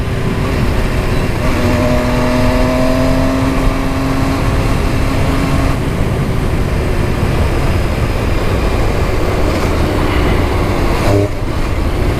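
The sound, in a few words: MV Agusta Dragster 800RR motorcycle engine while riding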